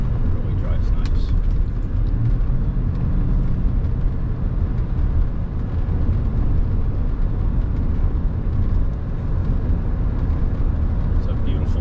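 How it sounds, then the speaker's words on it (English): A 1991 Mercedes-Benz 420SEL cruising on the road at speed, steady road and engine roar with wind noise heard from inside, continuous and fairly loud, with someone talking over it. "this car was cruising along nicely"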